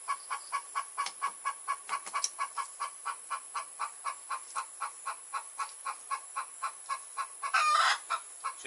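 Native hen clucking after laying eggs on a farm, a regular series of short repeated clucks at an even pace, moderately close and alone, with a brief louder squawk near the end.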